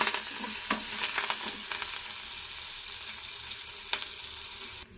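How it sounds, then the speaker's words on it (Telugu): Urad dal, chana dal, curry leaves and dry red chillies frying in hot oil for a tempering, a steady crackling sizzle with a few sharp pops, fairly close, no voices, cutting off abruptly at the end. "1/2 చెంచా శనగపప్పు, అలాగే కరివేపాకు, ఎండుమిర్చి"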